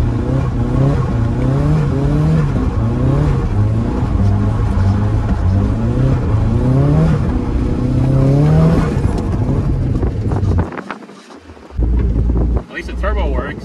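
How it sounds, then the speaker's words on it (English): A turbocharged Nissan S13's engine roars and climbs through the revs under heavy wind buffeting on an icy road, then the throttle drops off abruptly near the end. "At least the turbo works great actually."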